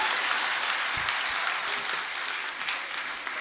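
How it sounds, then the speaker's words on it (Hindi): Audience applause at a Hindi poetry gathering (kavi sammelan) during a cultural programme, steady dense clapping throughout with no talk over it. "तालियां इन बच्चों के लिए आपकी बजनी चाहिए"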